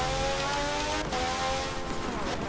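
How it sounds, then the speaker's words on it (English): A high-pitched Formula 1 car engine whines continuously, its pitch sliding as it accelerates, loud and sustained with no talking. "the Formula 1 car sounds so nice"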